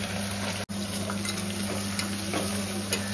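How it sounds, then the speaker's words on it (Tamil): Onions and slit green chillies sauté in oil for kurma, making a steady soft sizzle with faint stirring clicks under a low background hum. "பச்சை மிளகா ஒரு 4 கீறி வச்சுருந்தேன், அதை போட்டு நல்லா வதக்கிட்டேன்"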